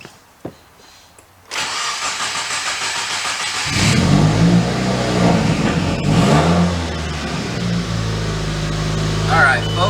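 A 2015-or-later Subaru WRX, fitted with a new fuel pump and set up for E85, cranks over and fires after a few faint clicks, then settles into a loud steady run with a couple of rising revs, close by.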